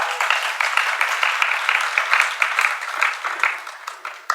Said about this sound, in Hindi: ताली तो बहुत देर के बाद बजा दिया